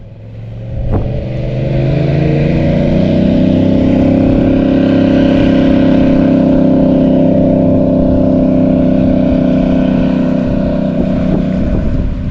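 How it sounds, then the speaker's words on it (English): Several airboats used by fishing guides on the Texas coast roar past, a loud, steady engine and propeller drone that swells after a brief start and holds at full volume throughout, with no talk. "We heard the roar of fan boats like this almost every morning."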